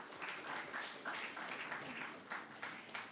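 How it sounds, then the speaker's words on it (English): An audience at a real estate conclave applauds a speaker with a soft, steady patter of many hands clapping, heard from a distance at low volume. "Can we have a round of applause for him?"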